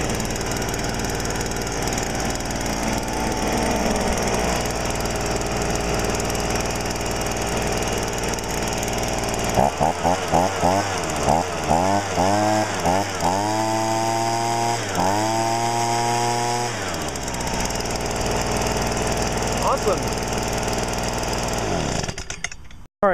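A 27cc Stihl two-stroke trimmer or blower engine, either a 2011 BG86 or a 2009 model, runs loudly and continuously nearby, revving up in several surges mid-way before settling and cutting off at the end.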